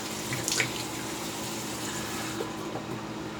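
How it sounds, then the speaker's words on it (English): A tap runs steadily into a sink for a face rinse after a wet shave, a constant close splashing stream with a few brief louder splashes near the start. "Rinse the face."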